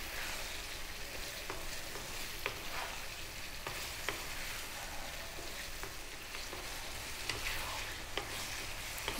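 Large cut tomatoes for a vegan tomato curry sizzle and fry in a pan while being stirred constantly, a steady crackling hiss with occasional scraping knocks of the spoon, fairly quiet with no voices.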